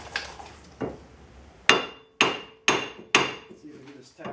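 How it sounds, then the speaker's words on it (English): A hammer knocks repeatedly against a car's front wheel hub assembly during an Oldsmobile Alero wheel bearing replacement, giving about seven sharp metallic strikes in an uneven rhythm, close and loud, with no talk. "I'm going to use a hammer"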